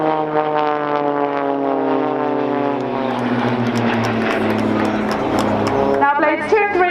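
The Blades aerobatic propeller planes fly along the display line at Dunsfold Wings & Wheels 2014. A loud engine drone drops steadily in pitch as they pass, while an announcer talks over it.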